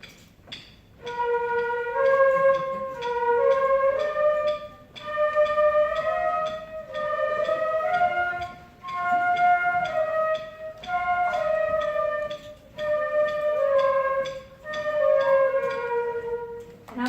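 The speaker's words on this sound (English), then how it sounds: "this is what it sounds like when they slur it" A middle school concert band plays a slow, smooth slurred passage of connected sustained notes in several long phrases with short breaths between, full and fairly close in a room, no talking.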